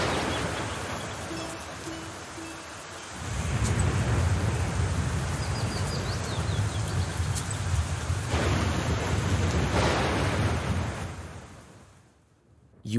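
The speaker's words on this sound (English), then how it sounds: "The real problem here is this rain. My fur is all wet." Heavy rain pours in a video game scene, a dense steady hiss that swells into louder downpour with rolling thunder rumbling beneath, before the sound drops away and fades near the end.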